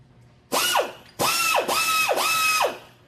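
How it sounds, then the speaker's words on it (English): A workpiece being ground square to 90 degrees on a grinder with a micrometer feed: three loud, close whirring mechanical bursts whose pitch sweeps downward, with no talking. "come in and actually grind this piece square, 90 degrees"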